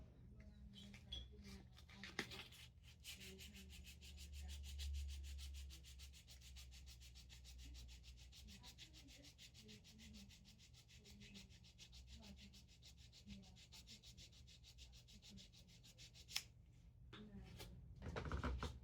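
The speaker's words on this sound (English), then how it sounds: "I like sanding things." Continuous hand sanding on a Homelite UT08572 30cc blower part, a steady rapid back-and-forth rasping scrape up close, with a low hum underneath and a couple of brief knocks.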